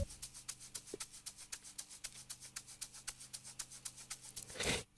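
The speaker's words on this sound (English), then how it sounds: "The next thing we have for our drums is obviously a shaker loop" A shaker loop for a beat remake rattles in a fast, even pattern of soft, bright ticks, quiet and alone, ending in a brief louder noisy burst.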